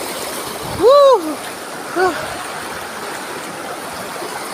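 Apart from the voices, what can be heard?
stream flowing at Canding Falls waterfall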